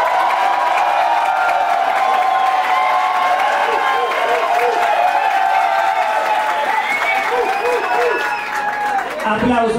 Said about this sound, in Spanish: Aplausos para Mayra Buitón.